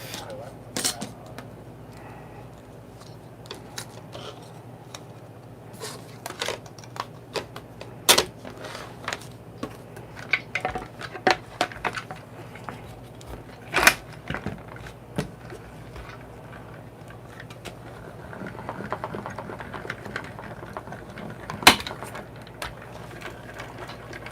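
A die-cutting machine cuts a leaf shape for a handmade card, giving irregular mechanical clicks and ratcheting taps, with a few sharper knocks spread over a steady low hum.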